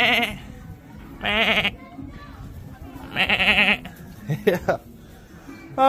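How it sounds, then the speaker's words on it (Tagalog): Goats on a farm bleat in several loud, wavering calls, close by and spaced a second or two apart, with people talking faintly in between. "Kambing."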